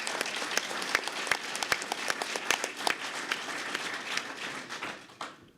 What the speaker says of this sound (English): So big round of applause for everybody that helped out.